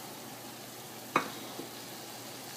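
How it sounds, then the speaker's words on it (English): Crabs stir-fried with green onions are stirred in a pan: one short, sharp scrape against the metal, then a smaller knock, over a faint, steady sizzle. "Do a little stir."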